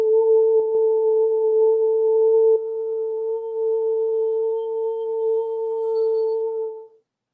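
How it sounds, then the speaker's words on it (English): A steady, sustained humming tone holds two clear pitches, sounding alone for about seven seconds at an even level before cutting off. "And you begin to hear her hum, gently at first, and then louder and louder."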